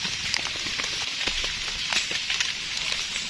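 Rain falls in a forest during mushroom picking, with a steady hiss of drops on leaves and scattered close drips and pattering.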